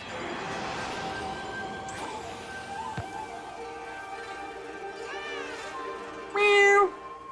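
Cartoonish cat meows from the Okami HD game on PS4, several short rising calls, the last one loud and close, over steady game music and ambience with someone talking at moments.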